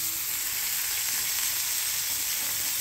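Red amaranth leaves sizzle in a hot frying pan, a steady, close hiss of frying that holds evenly throughout with no talk.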